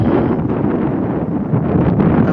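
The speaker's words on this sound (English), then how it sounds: "I'm hoping y'all can hear me over the wind" Strong wind blows outdoors, buffeting the microphone in a steady, heavy low roar that lasts throughout, with no talking.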